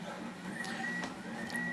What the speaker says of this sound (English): my printer is printing all the fins of the rocket one by one